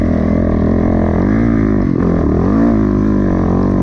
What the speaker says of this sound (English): Got a two-stroke coming up the inside.